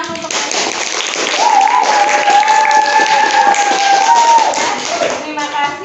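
Classroom applause from a group of students, a steady patter of many hands clapping at moderate loudness for several seconds, with a voice faintly carrying over the clapping.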